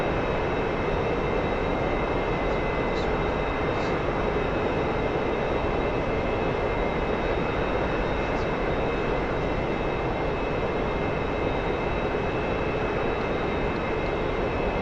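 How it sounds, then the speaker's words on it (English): A jet engine roars at full afterburner in a DCS flight simulator dogfight, a dense, unbroken, loud rumble that stays constant throughout with no talk over it. "I'm like full blower going after him"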